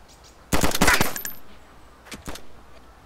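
A rapid burst of automatic gunfire in the DayZ video game fires close and loud, followed a moment later by two shorter, quieter shots.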